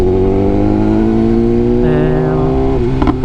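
A BMW S1000R naked motorcycle fitted with an Akrapovic exhaust revs loudly and steadily up close, its engine note holding then shifting pitch partway through before easing off.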